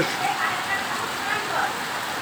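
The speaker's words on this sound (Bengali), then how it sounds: "বৃষ্টির শব্দটা খুবই ভালো লাগছে" Steady night rainfall hisses evenly throughout, a dense wash of drops with no other sounds standing out.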